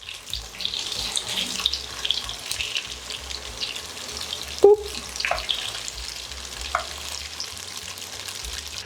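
Tofu frying in a pan for a stir fry, a steady close sizzle with occasional scraping and stirring clatter, one sharp knock midway.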